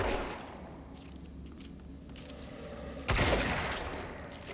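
Gunfire while shooting red targets in the game Control: a dense, continuous burst of shots and impacts, with a louder blast near the end that slowly fades out.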